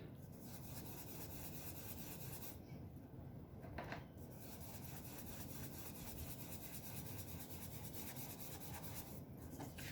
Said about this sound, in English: we're just going to take crumb cake with our blending brush and just blend the bottom to make it look like sand